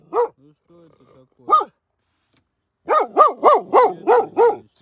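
A boxer dog shut in a car at night whimpers in short, high whines, then breaks into a quick run of six rhythmic barks close by; a soft low voice murmurs faintly between the cries.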